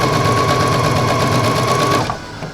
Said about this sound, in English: Sewing the strips.